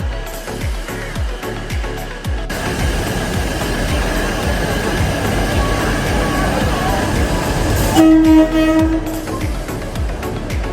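A crowded train rolls into a station with a loud sustained rush and rattle, then a horn sounds briefly near the end amid crowd noise and voices.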